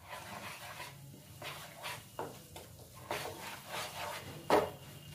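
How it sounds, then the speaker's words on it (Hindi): Besan roasting in hot ghee over a low-medium flame is stirred with a spoon, giving soft, uneven scraping and rubbing strokes close by, with a faint sizzle underneath. "घी गरम हो गया, इसमें डालेंगे हम बेसन और लो मीडियम फ्लेम पर इसे भूनेंगे।"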